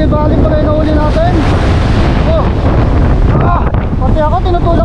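Strong wind at sea buffets the microphone in a constant roar during fishing, with churning water and waves underneath and faint voices now and then.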